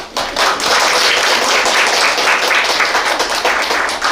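Dense applause from a forum audience of education office officials, a loud, continuous crowd clapping that swells after a brief quieter start and holds steady.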